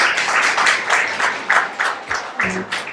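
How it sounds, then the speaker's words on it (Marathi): Applause from the audience at a Marathi novel launch ceremony: steady, fairly loud rhythmic clapping from a crowd, continuing for a few seconds before thinning out. "आलेल्या मंडळींचं आपण एक वेळा पुन्हा टाळ्या वाजवून स्वागत करूया"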